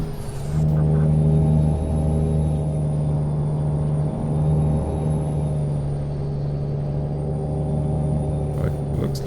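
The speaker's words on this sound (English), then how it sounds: "I love the sound of this truck" Heavy truck engine in Euro Truck Simulator 2, a steady low diesel drone with rumbling harmonics that holds continuously, loud and close, with no one talking over it.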